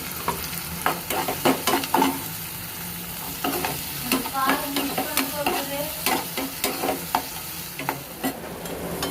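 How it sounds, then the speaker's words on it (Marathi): Sizzling frying of a tomato and potato vegetable dish, with a spoon repeatedly scraping and stirring through the pan, steady crackle underneath, close up. "बटाट्याची भाजीला मस्त फोडणी द्यायची"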